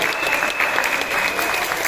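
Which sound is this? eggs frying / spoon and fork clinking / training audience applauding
training audience applauding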